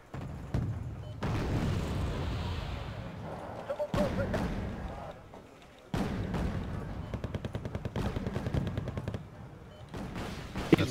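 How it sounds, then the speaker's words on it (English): Battle sounds in the Wargame: Red Dragon strategy game, with ATGM launches and tank gunfire around a Merkava and T-72s, heard as repeated sharp reports and rumbling bursts separated by quieter gaps. "Nope, ATGM fire in that Merkava."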